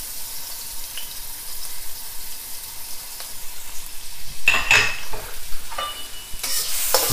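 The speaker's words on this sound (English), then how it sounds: "They fry a little bit." Ginger and garlic fry in a hot wok with a steady close sizzle, punctuated midway and near the end by louder bursts of stirring and utensil scraping.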